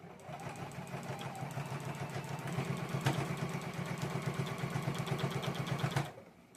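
A home sewing machine quilts a table runner, its needle chattering in a steady rapid rhythm for about six seconds before stopping abruptly, close and moderately loud with no talking.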